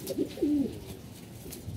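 A racing pigeon gives a short, close coo, one soft rolling phrase followed by fainter murmurs.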